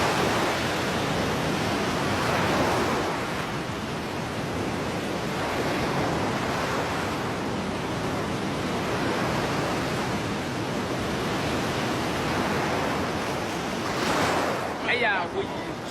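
Sea waves breaking on the Ghana coast make a steady, loud wash of surf with slow swells of roaring noise, mixed with wind buffeting the microphone.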